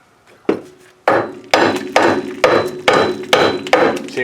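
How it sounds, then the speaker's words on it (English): Mallet or sledgehammer whacks on the side of a 2007 Honda Accord spindle, a series of about eight loud, sharp metallic-wooden impacts at a steady, roughly half-second rhythm, each ringing briefly, with no talking. "We're going to give it a few whacks with a mallet or a sledgehammer just on the sides of it."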